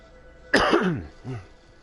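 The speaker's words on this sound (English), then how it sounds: "Sorry, I do not mean to keep coughing." A man's single sharp, loud cough close to the microphone, followed by a brief throat-clearing rumble in an otherwise quiet room.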